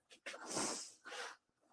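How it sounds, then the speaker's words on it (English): A single quiet sneeze with a short sharp intake and a hissy burst, followed by a brief second puff. "It's sneeze."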